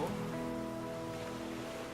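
Rain falls in The Flame in the Flood, a soft steady hiss of drops layered with faint sustained background tones, quiet and even throughout.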